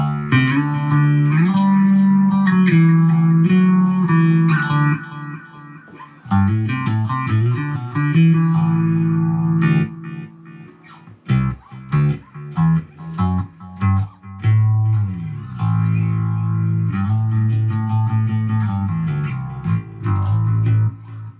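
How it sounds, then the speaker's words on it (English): A cheap Squier P-bass played through a Boss Katana 110 bass amp with tape echo delay, loud sustained melodic notes and lines whose repeats trail off, alone without talk. "on FX2 I have it set to a delay here. I think this, yeah, it's a tape echo delay"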